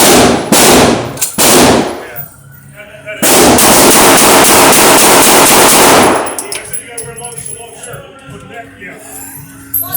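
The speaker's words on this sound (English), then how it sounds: "Now your pistol, Bill." Pistol and other guns firing at an outdoor shooting range, a rapid rattling burst of close, loud shots followed by a long sustained volley, then quieter sounds with people talking.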